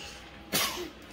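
A single short, loud sneeze bursts out midway through a quiet dinner-table moment at home, alone with no talk over it.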